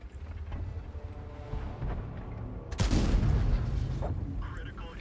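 A tank fires a high explosive round in World of Tanks: a sudden heavy boom rings out midway and decays under continuous low battle rumble, with a voice talking over it.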